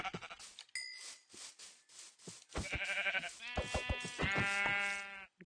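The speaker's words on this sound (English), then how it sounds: "let's go ahead and go kill this sheep" A few quiet clicks and taps lead into a couple of clear, wavering Minecraft sheep bleats, close and distinct.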